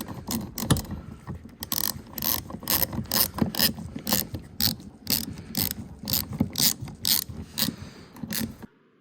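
A ratchet backs out a metric 5 Allen head bolt on a 2015-2018 Jeep Renegade, giving rapid, close clicking in repeated bursts for several seconds before stopping.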